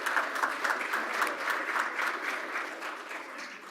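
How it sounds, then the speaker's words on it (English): A Rotary Club of Tulsa meeting audience gives steady, moderately distant applause, a continuous wash of many hands clapping at even strength throughout. "Brian's back there leading the applause."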